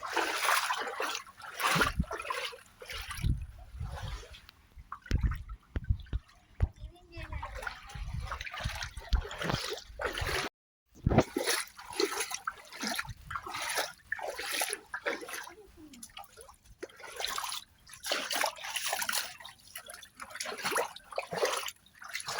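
Rainwater pours and trickles across a flooded rooftop terrace during rain in Machilipatnam, a steady close splashing and dribbling with one brief break midway.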